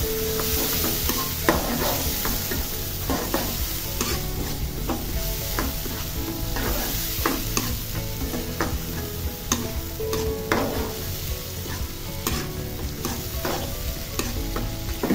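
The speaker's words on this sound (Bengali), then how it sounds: "এখন সবগুলো উপকরণ তেলের সাথে খুব ভালোভাবে একটু ভেজে নিব।" Chili powder, salt and other spices fry in oil in a pan over medium heat with a steady sizzle, while a utensil stirs and scrapes the pan in frequent close clinks, with no talking.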